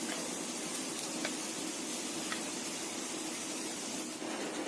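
Thick snack batter bubbling in a pan as it is stirred continuously; a steady low sizzle and soft simmer with a few faint scrapes, close and fairly quiet, without speech.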